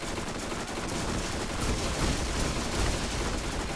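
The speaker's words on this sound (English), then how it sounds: "Try to shoot out a bunch of bullets." Rapid submachine gun fire from the video game Borderlands, dense continuous bursts of bullets rattling steadily for several seconds, fairly loud with no voices.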